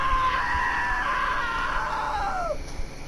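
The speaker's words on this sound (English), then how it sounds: "Now that was a great scream" A woman's scream in the video game What Remains of Edith Finch: a sustained high shriek lasting over two seconds, then sliding downward and cutting off, with no other voices.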